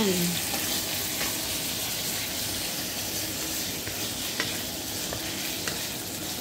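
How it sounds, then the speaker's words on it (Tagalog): Chicken breast with onions fries in a pan, a steady close sizzle with light stirring scrapes and occasional spatters throughout. "Fry natin siya until golden brown"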